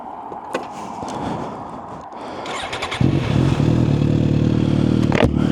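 A 1000cc litre-class motorcycle on a road, its engine note rising from a rough idle into a steady, loud droning roar after a few seconds, with clattering mechanical noise and a brief sharper burst near the end.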